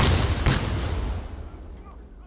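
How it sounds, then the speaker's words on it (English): A single loud explosion bursts at the start with a deep boom, then a second thump follows and the blast decays into a long fading rumble over about two seconds. "in this particular take, we're going to introduce an explosion."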